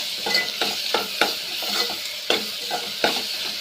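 Ginger and garlic fry and sizzle in a pan. A steady hiss runs throughout, broken by regular scraping strokes of a spoon being stirred, with no voices.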